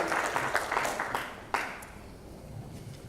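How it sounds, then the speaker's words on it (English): Applause for an honoured company at a business festival in Sharjah, scattered claps that come in uneven bursts and then thin out and fade toward the end, with no talking. "A round of applause for the IBMC Group"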